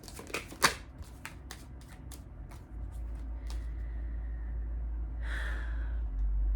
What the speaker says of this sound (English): Let me pull another card.